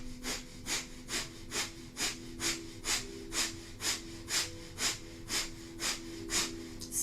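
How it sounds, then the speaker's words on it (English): Rapid yogic breath of fire during a Kundalini yoga abdominal kriya, a close, even train of about sixteen sharp nasal exhalations, each a short forceful puff at a steady quick rhythm. "begin breath of fire."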